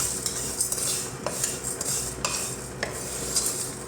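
Whole spices dry-roasting in a pan, stirred with a metal spoon that gives light, repeated scrapes and clinks over a constant hiss, close by and without speech.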